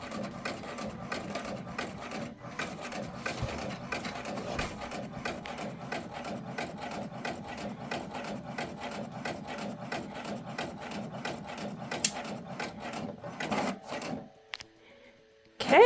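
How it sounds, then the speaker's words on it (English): An inkjet printer prints quilt tags with a steady, rapid mechanical chatter of carriage passes for several seconds, then slows with a few clicks and a final thump as it stops. "Okay, I just sent it through my printer"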